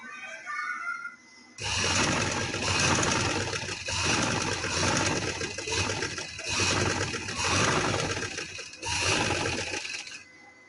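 A sewing machine stitches cotton fabric for trousers, running in long loud whirring bursts with brief pauses and rhythmic mechanical clatter, after a short quieter start.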